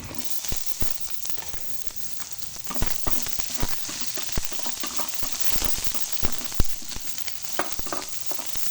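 Onion sautéing in a pan for a vegetable and squid dish crackles and sizzles steadily, with sharp pops and stirring scrapes scattered throughout, close by and without talk.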